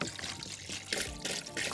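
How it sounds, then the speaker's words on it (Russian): Water trickles and splashes as it pours into a pot of chicken being cooked over an open fire outdoors, a close, quiet, uneven stream lasting under two seconds. "И заливаем водой."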